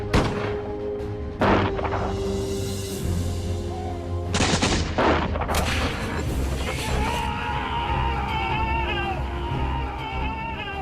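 Battle sound effect of musket volleys, sharp gunshots cracking repeatedly over a continuous rumbling din of fighting, loud and dense throughout.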